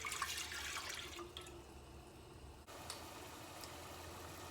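Water running and splashing from a tap into a pot for potato soup, a quiet steady stream that changes tone partway through, with no voices.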